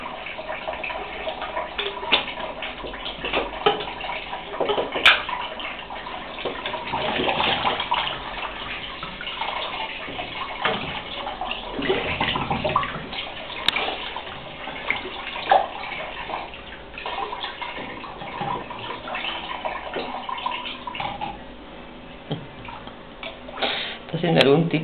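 Water splashing and running continuously, as if poured or tossed in a bathtub-like space, fairly close, with people talking and laughing over it for much of the time.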